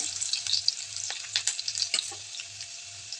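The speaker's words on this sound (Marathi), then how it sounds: "जिरे छान ब्राऊन कलरचे झाले की त्यामध्ये लसूण खूप सारा आपण जो कट करून घेतलेला होता तो आणि लसूण छान तळून घ्यायचं" Garlic sizzles in hot oil with browned cumin, a bright continuous frying crackle broken by quick stirring taps, close and alone over a faint pulsing low hum.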